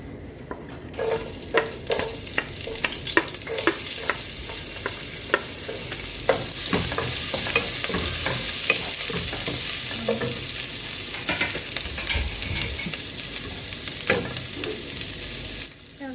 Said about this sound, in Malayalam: ഇനി ഇതിട്ട് വഴറ്റിയെടുക്കുക